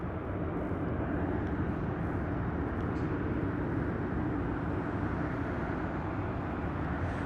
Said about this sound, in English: we have Frontier Airlines arriving just now